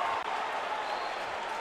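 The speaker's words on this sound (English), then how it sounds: "trying to silence this Glens Falls crowd who's erupting with noise right now" Glens Falls basketball crowd roaring in a gym after a hard foul, a steady dense wall of cheering and applause that stays loud throughout with no clear speech.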